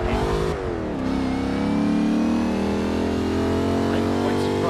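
A Jaguar XKR-S GT in Forza 6 drives hard through an A-Class time attack, its engine droning loud and steady as revs climb and hold with a brief lift near the start.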